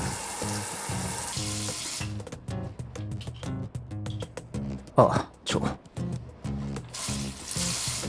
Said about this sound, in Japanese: 内臓が残ってるんで、こいつは洗い流す。